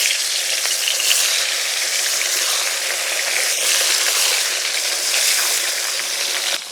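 Rohu fish pieces and a fish head fry in hot oil, making a loud, steady, hissing sizzle that stays even throughout, close up with no talking.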